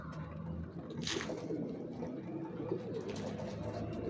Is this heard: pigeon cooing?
yes